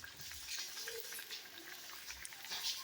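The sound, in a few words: banana flower vadas frying in hot oil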